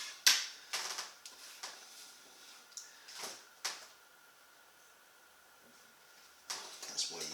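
A scalpel cuts and trims plastic trim from a 2015-2024 Ford Mustang S550 gauge-cluster and HVAC area, giving a few sharp, close scraping snicks and clicks with quiet gaps between them.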